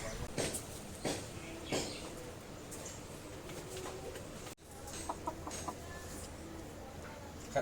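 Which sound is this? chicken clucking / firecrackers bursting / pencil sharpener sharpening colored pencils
chicken clucking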